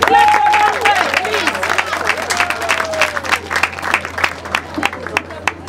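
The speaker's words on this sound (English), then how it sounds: "Please clap for that word. Clap for that word, please." Wedding guests at a Nigerian wedding reception clap together, first as a dense round and then thinning into scattered, uneven claps, while a voice speaks over the opening.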